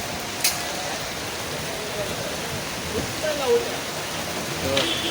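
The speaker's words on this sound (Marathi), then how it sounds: "पावसाने परत एकदा वाट लावलं." Rain falls steadily during an outdoor gathering, a soft continuous patter and hiss heard from under an umbrella, with faint voices and a few brief knocks and chirps.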